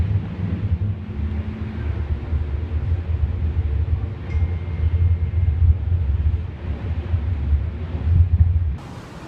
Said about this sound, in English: It's strangely kind of windy